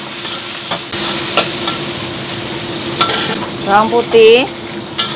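Rice noodles stir-fried with pork and garlic sizzle steadily in a hot pan, with clattering stirring strokes and a brief spoken word over the frying.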